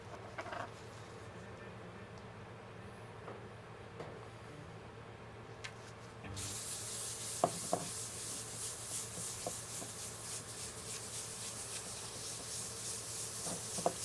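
A thin GluBoost finish coat is rubbed onto a guitar body. It starts quiet with occasional small taps, then a soft, steady rubbing hiss sets in midway and runs to the end, broken by light ticks.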